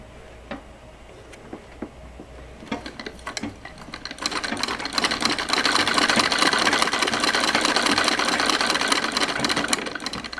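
A treadle sewing machine being pedaled with the right leg to stitch a fabric scrap; a few isolated clicks at first, then from about four seconds a steady, close, rapid mechanical whir and ticking that holds to the end, with no talking.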